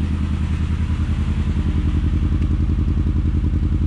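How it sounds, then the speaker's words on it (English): A loud, close VW Scirocco MK2 engine, converted to an ABF engine with a rebuilt carburetor, idles with a heavy, lumpy pulsing rhythm, its revs swelling slightly as the throttle is blipped; no speech. "So I was just blipping the throttle"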